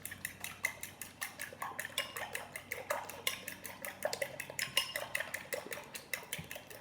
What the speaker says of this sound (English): we want to go ahead and beat these eggs before we add them to our mixture